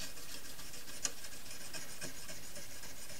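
A scissors blade rubbed across a hard Arkansas sharpening stone, a continuous close, soft gritty scraping with faint repeated strokes and no talk.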